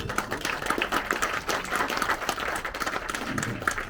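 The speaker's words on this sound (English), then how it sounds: "Give yourself a round of applause." A room of donors and supporters claps for themselves after a fundraising milestone, a continuous crowd of hands at moderate loudness with uneven bursts and no clear speech.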